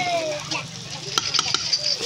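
Chicken curry with spices being stirred in a pan, a close steady hiss of frying with a few quick utensil scrapes and clicks near the end.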